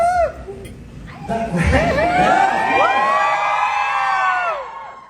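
A crowd cheers, whoops and shouts with excited, high-pitched voices at a Måneskin event for Spotify Colombia, a loud, sustained roar rising after a brief opening and fading at the end.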